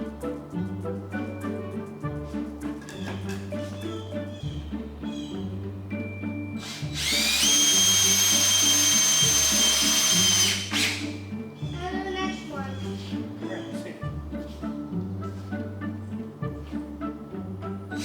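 Power drill driving screws while building a chicken tractor outdoors, one close, loud, steady whine of about three seconds, with music and a voice around it.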